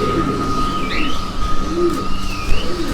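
Pigeons coo softly and repeatedly nearby in Lahore, low throaty calls over a steady hum with a few faint higher chirps in the background.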